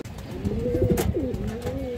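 A pair of old-line sapchila pigeons coo close by in soft, rolling, looping calls that repeat over a steady background hiss.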